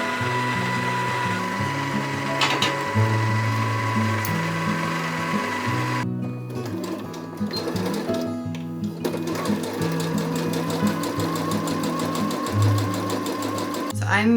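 A sewing machine stitches viscose twill fabric in quick runs of rapid mechanical chatter with short pauses between bursts, while someone talks over it.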